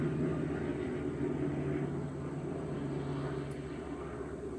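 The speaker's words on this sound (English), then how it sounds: "I don't know if you can hear the plane in the background." An airplane flying overhead leaves a steady, low, distant drone that fades slightly toward the end, with no voices over it.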